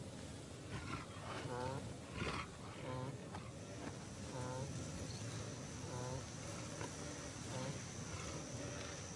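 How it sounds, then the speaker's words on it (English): A male lion on the African savanna gives a series of deep, grunting roars, rising and falling in repeated bursts at moderate distance over nearly ten seconds against a background hum of insects. "A lion, alerted by the noises, emerges from a thicket."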